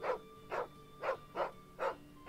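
Dog barking in the Final Fantasy XVI game, six evenly spaced barks in quick succession, moderately close and clear with no talk over them.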